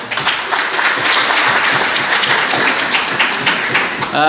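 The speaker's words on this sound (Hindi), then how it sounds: "एक दफ़ा जहरा के लिए भरपूर तालियां बताइए" An audience at a book launch and poetry gathering gives loud, sustained applause for the author Zahra, thick rapid clapping from many hands that swells briefly near the end.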